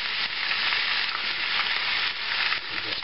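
Cabbage and Spam frying in a pan, giving a dense, steady sizzle that holds up close and even throughout, with faint stirring underneath.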